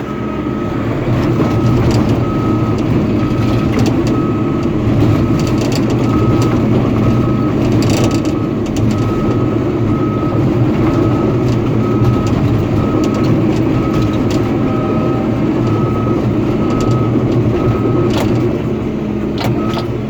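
A Caterpillar D4 bulldozer runs steadily while pushing dirt, a loud continuous diesel drone with clanking metallic track noise and a thin high whine riding over it, heard close and unbroken for the whole stretch.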